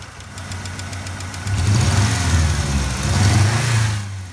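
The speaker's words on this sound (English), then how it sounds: "Restoring cylinder number 2 for a total of 3 active cylinders, well, the idle's a little choppy and we have a minor lifter tick." A Saturn car engine idles roughly on only three of its cylinders, with a minor lifter tick. The loud, close, uneven chugging swells briefly twice, and a faint metallic ticking runs underneath.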